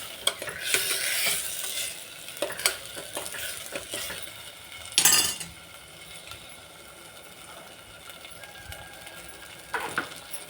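Matki sprouts frying in oil in a pan, a soft steady sizzle under repeated scraping stirs of a spoon against the pan, close and moderately quiet.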